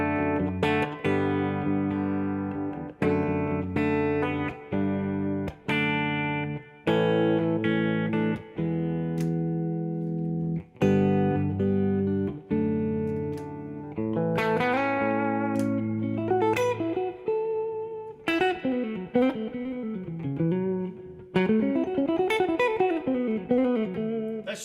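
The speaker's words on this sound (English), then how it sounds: "That's just the Sir pedal right there and the reverb." Electric guitar run through a Sir pedal with reverb, playing sustained chords and then singing, bending lead lines, loud and continuous with a reverberant tail and no talking.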